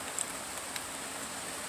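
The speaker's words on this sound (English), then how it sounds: "And it's raining today." Steady rain falls outside on an autumn day, a soft even hiss with a few faint drip ticks, heard alone at low level without any voices.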